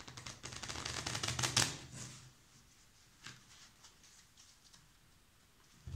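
Playing cards laid out on a table for a card trick, some face down and some face up, with about two seconds of rapid, close tapping and flicking, then near silence broken by a few soft taps.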